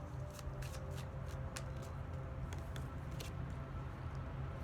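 Playing cards shuffled for a tarot-style card reading, a steady close riffle and rustle of cards running continuously without any voice.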